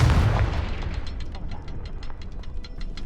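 In Hogwarts Legacy, the Confringo fire spell bursts with a loud booming explosion at the start, then a rumbling tail decays under a string of faint rhythmic clicks.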